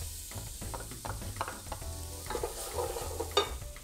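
Onion hits hot rendered bacon fat and fries, a crackling sizzle under repeated stirring scrapes and light clinks of a utensil against the pan, close and without talk.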